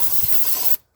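Starting fluid is sprayed from an aerosol can into the engine of a 1977 Ford F250 pickup, one steady close hissing burst lasting most of a second before cutting off, alone without talk.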